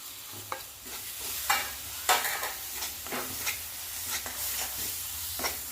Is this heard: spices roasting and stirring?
yes